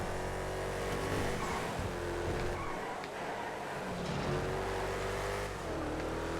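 Gauntlet drag car from GTA, with a loud steady engine drone and rumbling low end that surges and revs slightly as it races, continuous and close, with no talking.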